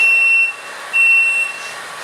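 A home-brewing timer on a Phoenix brew day beeps at mash-out temperature, giving two long, loud, steady electronic tones separated by a short pause, with faint room noise behind.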